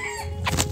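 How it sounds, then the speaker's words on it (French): A Java hen gives a brief, close cluck or two in a single short burst. "Donc ma troisième poule Java"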